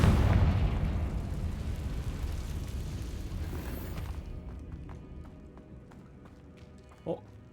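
A Confringo blasting spell explodes in Hogwarts Legacy with a heavy, booming burst that rumbles and slowly fades, followed by a few faint clicks and a small pop near the end.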